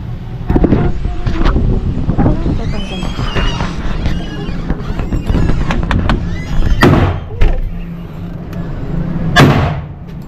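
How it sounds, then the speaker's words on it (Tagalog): Gunshots at an indoor shooting range in Cubao, loud sharp reports at irregular intervals ringing over a busy background, with voices talking between shots. "magugulat ka na lang pagka pumuputok yung mga bala ng iba."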